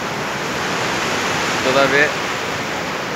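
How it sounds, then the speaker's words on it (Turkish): A fast, rough mountain river rushes in a steady broadband roar at close range under worsening weather, with someone briefly speaking over it. "bir ırmak var ama feci bir ırmak akıyor"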